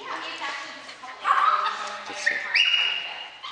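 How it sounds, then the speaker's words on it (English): Small dogs yip and whine nearby in short, high-pitched bursts, a few close together, with a person talking intermittently over them. "We've got a couple little dogs checking in over there."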